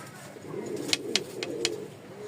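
Pigeons coo softly amid a loft of fancy breeds such as Lakkha, Lotan and Rajshahi Giribaz, with a few short bright chirps and calls rising over a faint, busy ambient hiss.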